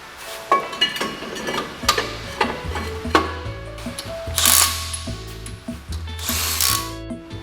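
Screwdriver clicking the spur-gear handbrake adjuster on a 79-series Toyota Land Cruiser, a run of sharp close ratcheting ticks with a steady low hum beneath and a couple of brighter scraping bursts.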